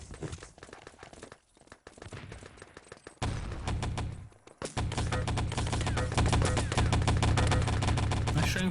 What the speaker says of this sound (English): Shooting from Squares, getting quite a lot of damage off